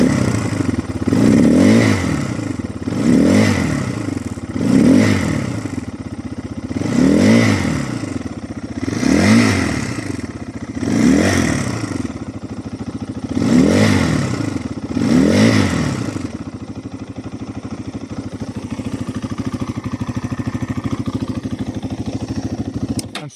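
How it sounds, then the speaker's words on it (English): A Kawasaki GPX 300R motorcycle runs totally cold with the choke on and rich. The engine rises and falls in about eight rhythmic revving surges, then settles into a steady close idle. "The choke's on at the moment, so it's running a bit rich."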